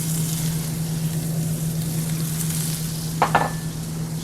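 Diced onion hitting hot virgin olive oil in a pan, a steady close sizzle with a low hum beneath and a couple of brief bursts of louder crackle near the end.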